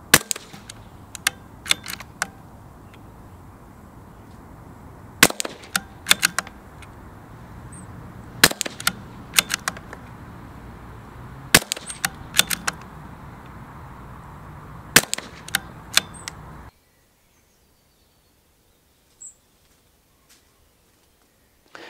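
Sharp, sparse cracks of a CZ 457 heavy-barrel rifle shooting at 50 metres outdoors in blustery wind, single shots and quick clusters spaced irregularly over a steady wind rush, then near silence with one faint late pop.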